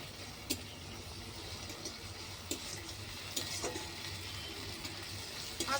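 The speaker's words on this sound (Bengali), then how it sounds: "আদা রসুনটা ভাজা ভাজা করে নিয়েছি, কাঁচা গন্ধটা চলে গেছে।" Ginger garlic paste fries in oil in a pan, a faint low sizzle with occasional scraping stirs and soft clinks of a utensil against the pan, no voices.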